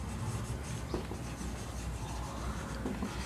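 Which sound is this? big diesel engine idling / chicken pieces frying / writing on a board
writing on a board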